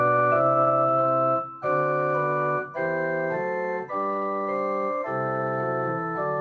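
Piano playing a full four-voice Bach texture, sustained chords moving in a slow progression of dense, dissonant harmonies that resolve, each chord held and changed with brief gaps, solo and clear.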